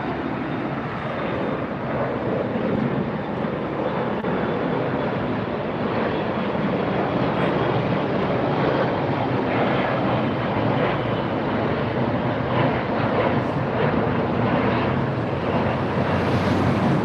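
A jet aircraft at LAX airport, a sustained loud roar of engine noise that stays steady for the whole stretch, with some wind buffeting on the microphone and no voices.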